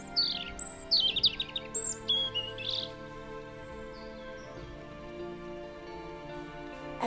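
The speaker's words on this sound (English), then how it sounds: "Can you recall how melodious this bird sounds during the spring when getting" A songbird in spring sings a short run of bright, chirping phrases in the first few seconds, then falls quiet over a steady low background hum, with no voices.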